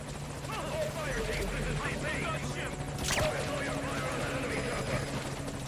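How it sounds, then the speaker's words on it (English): A helicopter's steady rotor drone hums throughout in Metal Gear Solid V: Ground Zeroes, with game sound effects and a sharp burst partway through. "don't shoot the helicopter"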